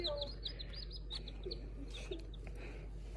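Baby chicks chirp in a rapid string of high, thin peeps, close and fairly clear over a steady low hum, with occasional soft rustling.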